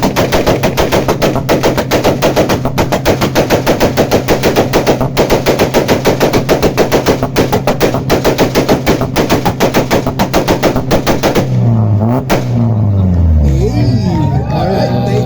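A Honda Civic with a loud exhaust revs at a San Jose car show sound-off, producing a harsh, rapid machine-gun-like crackle for about eleven seconds before it drops off. Crowd chatter and whoops then take over.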